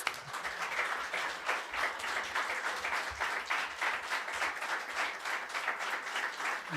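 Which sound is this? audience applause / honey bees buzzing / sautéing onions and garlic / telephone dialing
audience applause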